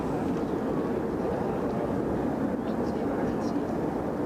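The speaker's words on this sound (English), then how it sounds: "So what's coming down the track next is a Singapore Airlines A350." A Singapore Airlines Airbus A350 coming in to land at Brussels Airport, a steady broad jet roar at moderate distance that holds through the whole stretch, with a voice talking over it.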